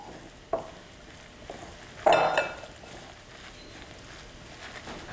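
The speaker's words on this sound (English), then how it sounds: "And then mix very well." A spoon scrapes and clinks against a bowl while stirring a thick potato latke mixture of grated potato, flour and baking powder, with a louder scraping burst midway and soft steady mixing noise around it.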